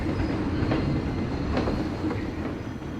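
A roller coaster train running in the video game Planet Coaster: a continuous loud rumbling roar with faint periodic clacks, steady throughout and without talk.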